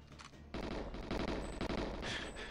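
Pistol fire in GoldenEye, a rapid run of steady, closely spaced shots that starts abruptly and keeps going at an even, loud level.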